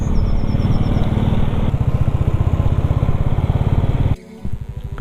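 Motorbikes on a group ride ascend the mountain road near Mandala Top in Arunachal, their engines thrumming close and loud with a steady pulsing rumble. The sound drops off abruptly near the end.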